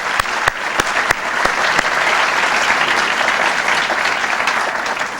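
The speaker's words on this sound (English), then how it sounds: "I'd also just like to ask you to extend your applause to Tony Morrow for doing such an excellent j" An audience applauds at the close of a 1997 public debate, starting with a few sharp claps that build into loud, sustained crowd applause.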